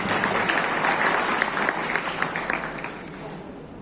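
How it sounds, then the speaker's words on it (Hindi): An audience at a university function applauds loudly and steadily, a dense wash of clapping that fades slightly toward the end. "एक बार जोरदार तालियों से स्वागत कीजिए"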